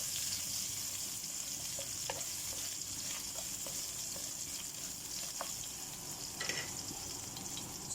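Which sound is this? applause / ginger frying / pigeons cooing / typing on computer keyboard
ginger frying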